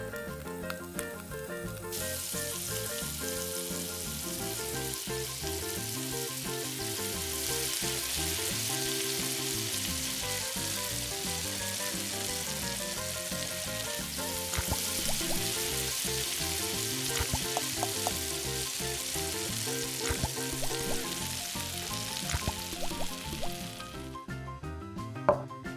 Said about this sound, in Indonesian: Goreng pakai api sedang biar matangnya pelan-pelan.